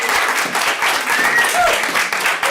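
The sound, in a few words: audience applause at a public meeting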